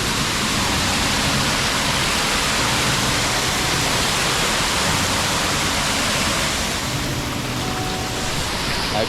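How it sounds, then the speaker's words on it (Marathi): A forest waterfall gives a loud, unbroken rushing roar of falling water that fills the whole scene evenly and steadily, with no speech. "हा बघा धबधबा."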